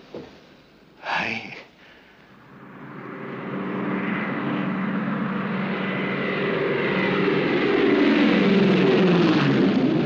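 A propeller airliner, a Trans Australian Airways flight from Darwin in a 1956 film, grows from faint to a loud, steady engine drone with a wavering pitch; a short breathy sound from a person comes just before.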